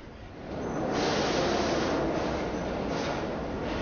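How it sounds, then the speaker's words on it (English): New York subway train roaring loudly and steadily, a dense rushing rumble that swells in the first half second and then holds. "This is the sound of the New York subway heard by a young person."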